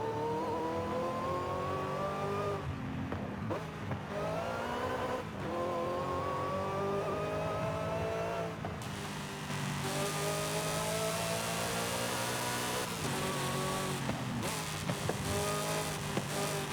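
Screaming V8 engine of a car in Forza Horizon 5 driven for drifting, loud and continuous, rising and falling through repeated revs and gear changes with brief tire squeal, no voices.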